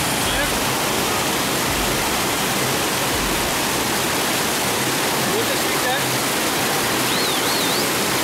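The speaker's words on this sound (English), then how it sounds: "Our waterfall." A waterfall on a river roars in a steady, dense wash of broadband noise that fills the whole stretch without letting up, close and loud.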